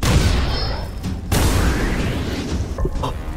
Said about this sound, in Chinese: 刚刚枪声太响，我没听清。